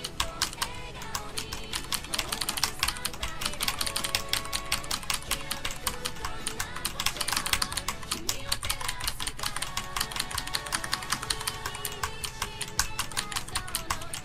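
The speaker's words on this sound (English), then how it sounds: "keyboard ASMR" Fast, continuous typing on a computer keyboard fills the stretch, a busy stream of close, crisp key clicks tapping out an osu! rhythm game song, loud and unbroken, with no voices over it.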